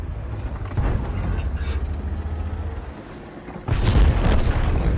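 High-explosive tank shells bursting in World of Tanks, a low rumbling battle bed with a sharp muffled boom near the start and a louder heavy blast toward the end.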